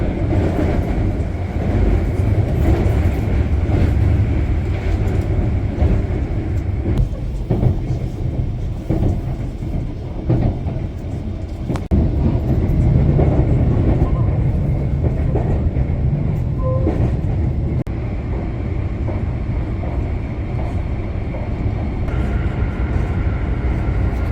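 A train in South Korea, running mainly above ground, rumbles steadily along the track for the whole stretch, a dense low roar with faint rattling and occasional clunks, loud and close.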